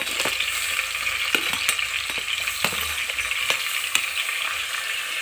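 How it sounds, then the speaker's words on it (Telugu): Carrots sizzle loudly in hot oil with green chillies and onions, a dense steady frying hiss broken by sharp clinks and stirring knocks from a utensil. "ఒక నాలుగైదు పచ్చిమిరపకాయలు అలాగే ఆనియన్స్ కూడా కోసి పెట్టుకున్నాను నేను ఇందాకనే క్యారెట్ కూడా వేసుకుంటున్నానండి"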